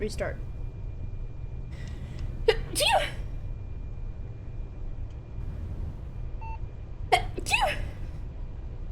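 A person sneezes sharply several times, with other voices talking around the sneezes during a streamed game session.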